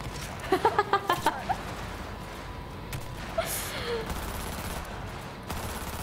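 A quick burst of about six rapid gunshots in a shooting video game, followed by a few scattered sharper shots, with a player talking throughout.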